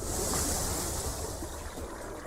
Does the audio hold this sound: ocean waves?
yes